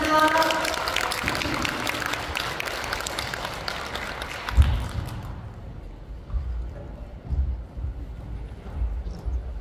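A conference audience claps warmly, dense and fairly loud at first, then thins into scattered claps and bumps near a microphone as the applause fades out.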